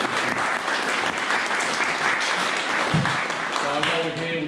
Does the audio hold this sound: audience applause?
yes